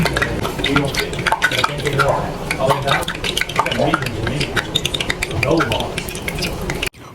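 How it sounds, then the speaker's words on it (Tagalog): Water is sprinkled into hot oil in a pan before frying egg rolls, giving a close, steady crackling sizzle mixed with scraping and clinking of cookware while someone talks. "if it sizzles, then that's the time for me to start frying."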